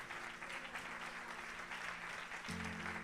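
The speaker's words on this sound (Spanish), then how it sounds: "Vamos a darle ese aplauso fuerte al Señor" A church congregation applauds for the Lord during a service, a steady wash of many hands clapping at a distance, faint and continuous, with a low sustained musical tone entering near the end.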